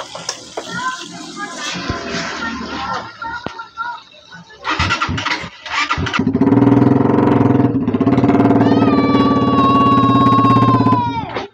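A Rusi Flash150X motorcycle engine with a new stainless exhaust elbow idles, then revs up into a loud, sustained roar with a raspy exhaust note, rising in pitch near the end.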